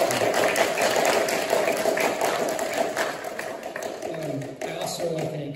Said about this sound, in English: I just want to give all of you guys a round of applause that you guys did great